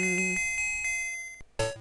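A bright bell jingle from Super Mario Land 2 rings out clearly, a short chime that decays over about a second before a second bright chiming burst follows.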